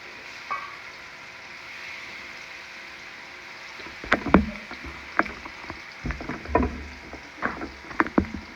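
Shrimp go into olive oil in a hot pan, a low steady sizzle at first, then a run of sharp clacks and bursts of crackling as pieces land and spit, near and moderately loud.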